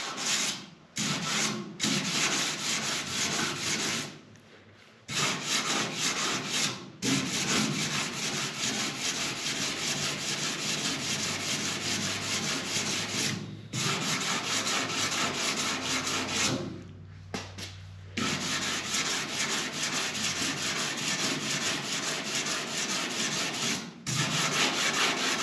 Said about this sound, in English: and see if it'll sand.